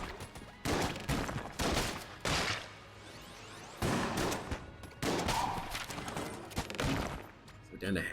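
Shotgun blasts from the video game Enter the Gungeon, several loud bursts spaced through the stretch, some separated by short gaps, with a voice talking over the action.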